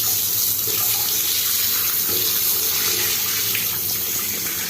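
Water runs steadily into a toilet being tested for leaks, a continuous close splashing rush with no talk.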